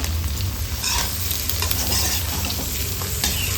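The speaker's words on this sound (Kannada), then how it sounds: "ಚೆಂದ ಮಿಕ್ಸ್ ಮಾಡ್ಕೊಳ್ಳೋಣ" Capsicum and onion being stirred in a frying pan for chilli pork, with loud, close sizzling and a busy run of scraping and clattering stirs throughout.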